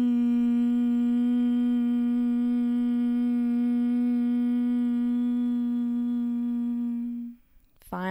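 A single long, steady hum on one sustained pitch during a breathing exercise, loud and close, holding evenly for about seven seconds before fading out into a brief breath.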